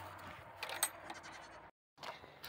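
A newly acquired farm goat bleats in short, wavering calls, close and moderately loud, with a brief silent gap before a second burst of bleating.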